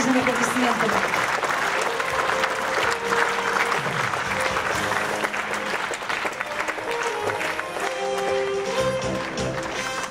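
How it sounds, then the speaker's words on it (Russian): Warm, sustained applause from a concert audience in Moscow during an award ceremony at a Zul holiday concert, a steady loud wash of clapping lasting the whole stretch, with voices and music-like tones mixed underneath. "Давайте поприветствуем самыми теплыми и дружными аплодисментами."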